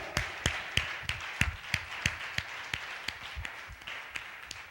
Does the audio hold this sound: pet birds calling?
no